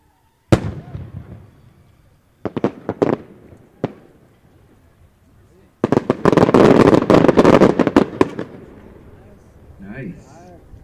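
Fireworks burst in separate sharp cracks and pops, then a dense rapid barrage of crackling explosions, followed by fainter trailing fizzes.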